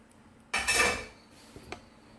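An egg cracks sharply against a non-stick frying pan on the stove, a single crisp clatter followed by a faint softer tap, close and alone.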